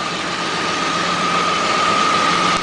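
A hydrogen-powered Geo Metro engine runs loud and close with a dense, steady roar. A constant whine sits above the rumble and never lets up.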